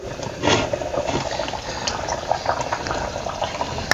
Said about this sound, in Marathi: बघा चांगली अशी उकळी आलेली आहे आणि डाळ पण शिजलेली आहे